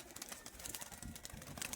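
Pigeons in a large home pigeon collection cooing softly and faintly amid low rustling background noise, no voices.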